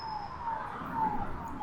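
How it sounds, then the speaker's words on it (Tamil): An ambulance siren wails past on an early New Year's morning road beside a temple, a steady mid-distance tone under light background noise, with no nearby talk. "காலங்காத்த ஒரு ஆம்புலன்ஸ் போகுது பாருங்க"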